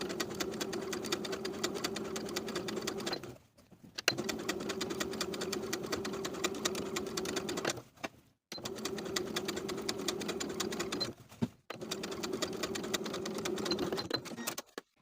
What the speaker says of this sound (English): we're going to stitch the facing to the seam allowance underneath all the way around with about an 1/8 of an inch seam